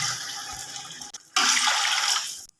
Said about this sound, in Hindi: तो पानी डालते हैं, बिस्मिल्लाह।